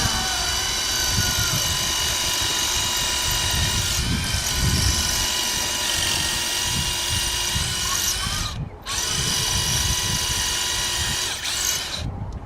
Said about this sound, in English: I've got to drill it some more